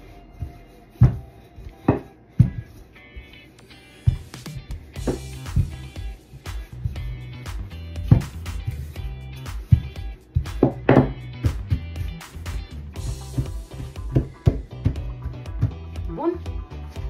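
A knife trims the edges of rolled cocoa-chocolate dough on a work surface, with a series of crisp, irregular taps and cuts repeating throughout while someone talks over them.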